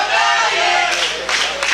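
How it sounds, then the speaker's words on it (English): Wrestling crowd at a CWF Mid-Atlantic show chanting for Lee Valiant against Zane Dawson, a loud, dense wall of voices with rhythmic swells, steady throughout. "Crowd chanting, "Let's go Valiant.""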